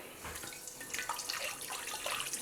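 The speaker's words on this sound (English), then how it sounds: "All right, so some warm water, maybe a little bit of some soap." Warm tap water runs steadily into a sink while an Aroma rice cooker inner pot is rinsed, a soft continuous splashing stream with no talk.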